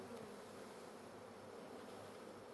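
Honey bees from a caught swarm being shaken from a dirty frame into a hive, a dense continuous buzzing drone of many insects close by, steady throughout with no talk.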